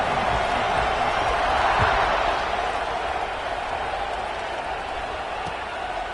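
A stadium crowd in the Madden football game roars as one broad, sustained wash of cheering, swelling and then settling slightly before kickoff, with no talk over it.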